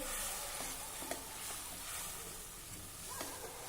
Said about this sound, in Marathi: अगदी मंद आचेवर आता आपल्याला हे जरा तेल सुटेपर्यंत परतून घ्यायचं आहे